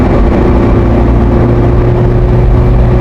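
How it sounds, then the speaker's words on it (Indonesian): Loud, constant engine roar of an empty truck passing close at high speed on a toll road, a deep droning rumble that holds steady throughout. "Wah, itu truk"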